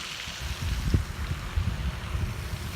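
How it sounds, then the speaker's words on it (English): Water flowing at a peaceful morning meditation spot in a residential community, a continuous soft rushing wash with light wind buffeting the microphone, steady and unbroken with no voices. "I love the sound of water"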